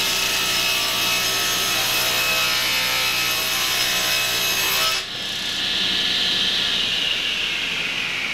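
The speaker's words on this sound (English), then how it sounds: "we've got to bevel. In other words, put a 45 degree cut on this" Handsaw cutting a 45-degree bevel in wood for a corner cabinet, a continuous close rasping stroke noise that runs steadily throughout with a brief break near the middle.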